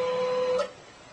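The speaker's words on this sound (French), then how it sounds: "Imprimante de merde." An office printer runs with a steady mechanical whine and hum that cuts off abruptly partway through, leaving a quieter low background while a cat is nearby.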